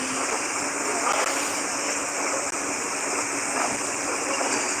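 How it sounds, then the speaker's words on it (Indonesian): Strong rushing water flows down the hiking trail on Mount Marapi at Nagari Aie Angek, a loud, steady, close roar of a fast stream with no pauses. "Lumayan deras airnya dari atas di sana."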